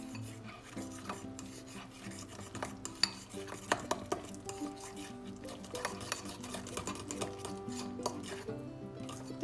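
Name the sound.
stirring flour and water into a thick paste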